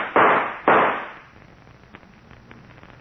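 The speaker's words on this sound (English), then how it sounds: "All right, then I'll shoot." Two sharp gunshot effects from an old-time radio drama ring out close together and loud, then fade into a quiet tail with a few faint clicks.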